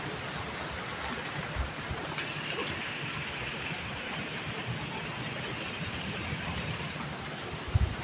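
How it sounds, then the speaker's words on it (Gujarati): Steady, dense rain driven by wind fills the whole stretch with an even broadband wash, close and constant, with a couple of brief louder gusts or knocks near the end and no talking. "જો પાછો પવન સાથે વરસાદ આવે છે"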